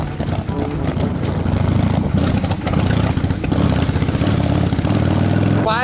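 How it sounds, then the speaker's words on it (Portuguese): A motorcycle engine that is hard to start when cold runs loudly and close by, a steady rough chugging with slight revving throughout. "A moto aí, ó. É uma nhaca pra pegar, mano, quando ela esfria assim."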